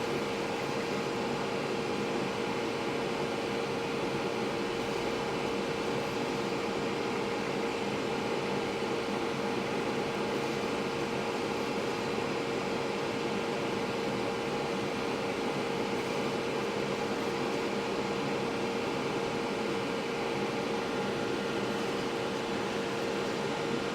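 K2 Plus 3D printer laying down a smooth first layer of PETG filament, a steady droning hum with a constant tonal whine from fans and motors, continuous and even throughout with no talk.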